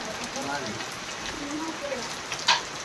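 Rain falls steadily outside a house at dusk with the window shut, a soft continuous patter with one brief louder knock near the end, while a voice speaks quietly over it.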